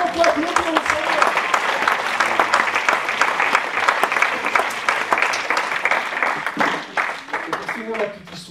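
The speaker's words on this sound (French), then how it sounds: "Est-ce qu'on peut applaudir le Seigneur?" A church congregation applauds the Lord in a long, steady wave of clapping, loud and close, while a preacher's voice carries over it and a few vocal cries rise near the end.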